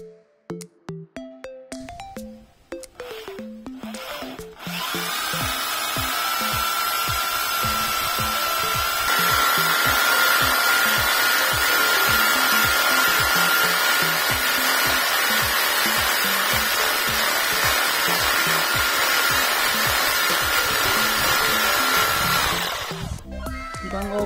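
A bladed power tool whines loudly and steadily for nearly twenty seconds against wood after a few short clicks and knocks, then cuts off.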